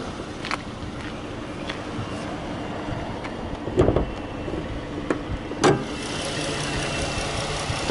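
The 3.6 liter Pentastar V6 in a 2014 Dodge Charger SXT idles steadily under the open hood, a low even hum broken by a few brief knocks and clunks close by.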